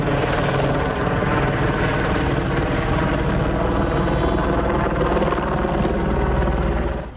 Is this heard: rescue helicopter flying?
yes